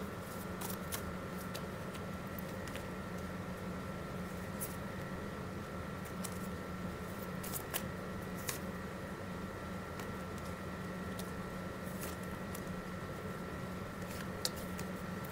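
Tarot cards shuffled and drawn in a soft, continuous rustle with scattered light clicks and flicks, low and close over a steady background hum, with no talking.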